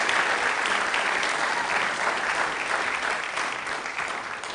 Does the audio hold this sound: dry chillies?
no